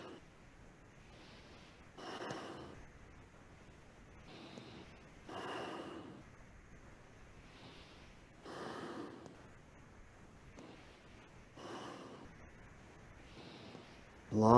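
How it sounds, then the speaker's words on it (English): Long, deep breaths during a Kundalini yoga kriya rise and fall in slow, regular cycles, each inhale and exhale a soft airy rush with quiet pauses between, close and unaccompanied by talk. "Long, deep breathing,"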